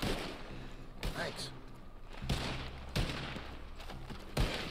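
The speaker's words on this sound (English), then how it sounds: "They're all shooting." Gunfire from NPCs in Red Dead Online, several sharp distant shots at irregular intervals under a brief spoken voice and background game noise.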